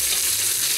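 Lamb pieces browning in a hot pan for rogan josh give off a steady, loud, dense sizzle and crackle, close up and unbroken for under a second.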